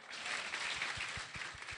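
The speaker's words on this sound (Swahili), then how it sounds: "Pigia yeye makofi." Audience applause at a bank-sponsored public function in Gusii, Kenya: steady crowd clapping fills the whole stretch at moderate level, with some low thumps underneath.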